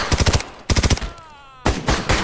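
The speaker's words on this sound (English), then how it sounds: "It's fun, the little firefights you get in this." Gunfire from a firefight in the video game S.T.A.L.K.E.R. modded into a nuclear winter setting: two bursts of rapid automatic fire separated by a short ringing gap, then a third burst, all loud and close.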